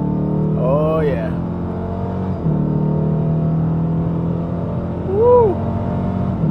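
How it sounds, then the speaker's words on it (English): A Dodge Challenger R/T Shaker's engine drones steadily from inside the car as it accelerates, with a brief dip in the rumble around the middle and a couple of rising whoops over it. "Let's go ahead and step on the gas."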